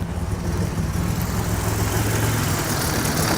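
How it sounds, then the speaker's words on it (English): A 1987 Buick Grand National engine idles roughly and stutters, a steady low rumble with uneven pulsing that stumbles throughout, heard up close and alone without talk. "See how it's stuttering and stumbling like me?"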